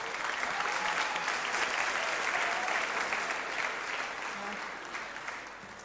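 Sustained audience applause for contestants at a singing competition, a dense crackle of many hands clapping steadily throughout, fairly loud and close, tapering slightly toward the end.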